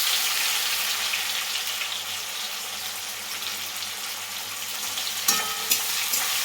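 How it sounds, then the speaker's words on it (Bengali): Sliced onions fry in oil seasoned with cumin seeds and dried chilli, a soft, even sizzle running close and steady, with a couple of sharper utensil taps near the end. "পেঁয়াজগুলো আমি এবারে ভাজবো।"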